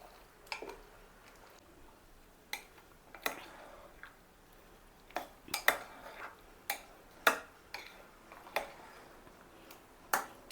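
A spoon clinks against a bowl while mixing homemade fruit salad with homemade tutti frutti, giving a dozen or so sharp, separate taps and scrapes at an irregular pace, fairly close with no talking.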